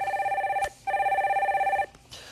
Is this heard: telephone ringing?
yes